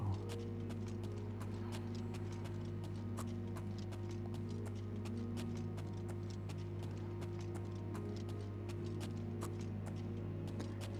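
Rhythmic clip-clop of a horse's hooves in a video game, a steady quick pattern of light hoof strikes over a constant low ambient hum, with no talking.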